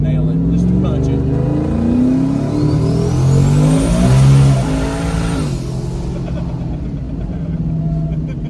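A turbocharged car is launched from a roll at full throttle, its engine rising loud and close through a hard pull with harmonic climbs and shifts, then settling, while voices talk over it.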